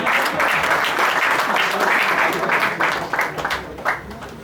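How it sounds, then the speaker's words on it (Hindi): A student audience at a university party gives dense, steady applause for 4.5 seconds, with the clapping thinning slightly near the end. "आपकी भरपूर तालियों में मोहम्मद अली।"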